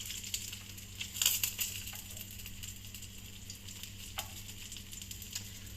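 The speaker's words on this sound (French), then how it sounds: "de bien laisser chauffer l'huile pendant une dizaine de minutes et au moins vous laissez 5 minutes cuire le poisson" Roach fish nuggets frying in hot oil, a soft steady sizzle with faint crackles and a few small pops, heard close and fairly quiet with no talk.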